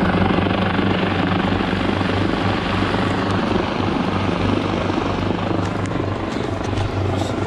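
Rescue helicopter arriving at a fjord mountainside in Norway, its rotor beating as a loud, steady, close throbbing roar that fills the whole stretch, with a voice faintly underneath.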